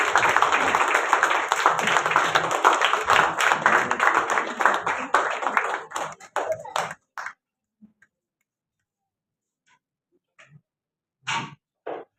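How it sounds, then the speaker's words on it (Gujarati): Crowd clapping at a women's award ceremony held by a charitable trust: steady, full applause for about six seconds that breaks into scattered claps and then near silence, with a few isolated claps afterwards. "પ્લીઝ જોરદાર તાળીઓ થઈ જાય એમના માટે."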